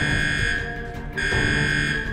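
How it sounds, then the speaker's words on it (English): A prison alarm sounds in a steady, loud electronic drone with a high sustained tone that dips briefly midway and then resumes, with no voices over it. "Sound the alarms."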